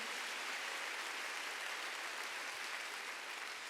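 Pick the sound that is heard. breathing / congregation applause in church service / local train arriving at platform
congregation applause in church service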